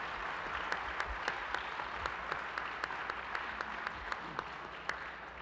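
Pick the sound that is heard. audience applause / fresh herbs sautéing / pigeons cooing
audience applause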